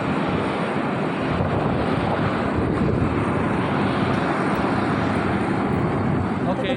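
Airplane engine during boarding for a flight from Pekanbaru to Binaka, Gunung Sitoli, a loud steady broadband roar that resembles wind noise, with a voice faintly under it.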